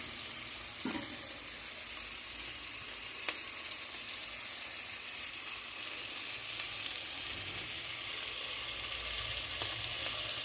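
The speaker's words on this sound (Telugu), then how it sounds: "ఇలా వేగుతూ ఉంటాయండి." Ingredients for chicken biryani frying in a pan, with a steady close sizzle that carries on throughout and a few faint clinks.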